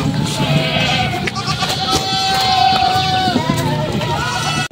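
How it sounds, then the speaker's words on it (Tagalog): Goats kept by a breeder on a Philippine farm bleat amid a noisy, steady background of livestock activity, with overlapping calls throughout and people talking nearby. "Yan po yung mga kambing nila dito."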